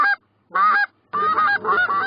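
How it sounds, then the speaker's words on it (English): Canada geese honk in a cornfield hunting spread in answer to a goose call, with repeated loud, nasal honks close by: one short call, a second burst, and then a longer run of overlapping honks. "World Goose Calling Champion Josh Newweller does the calling to bring them on in."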